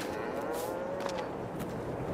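Cows mooing inside a large cow barn on a farm in Farming Simulator 22, a single drawn-out low moo close by over steady barn ambience, with no talking.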